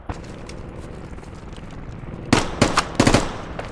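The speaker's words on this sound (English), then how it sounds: "I shot somebody close by" Gunfire in the video game Squad: a cluster of loud, sharp shots in quick succession late in the clip, following a few seconds of quieter ambient game sound.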